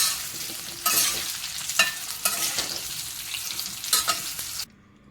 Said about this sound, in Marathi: चांगलं तेलामध्ये असं परतून घ्यायचं आहे